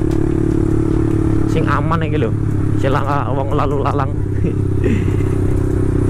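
A motorcycle engine idles and revs close by in the morning, a steady loud drone running under a voice talking throughout.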